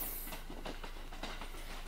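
A Kintetsu electric train pulls out of the Nabari depot, its steady rolling rumble and faint rhythmic wheel clatter sounding low and continuous at a moderate distance, with no voices.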